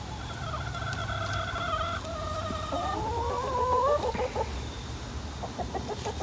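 Backyard chickens let out for the day cluck and squawk close by, a run of rising, warbling calls building in the middle, then softer scattered clucks, with no talking.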